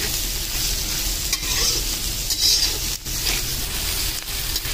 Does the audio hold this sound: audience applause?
no